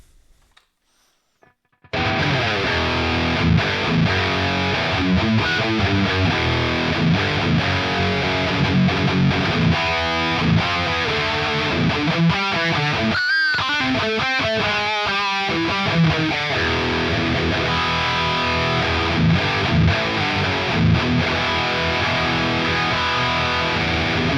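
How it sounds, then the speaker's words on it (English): A Schecter Tempest electric guitar with a Seymour Duncan Distortion bridge pickup plays loud, distorted sustained chords and riffs for over twenty seconds after a brief quiet start, with no talking. "This is a Schecter Tempest, loaded with Duncan distortion and jazz in the neck."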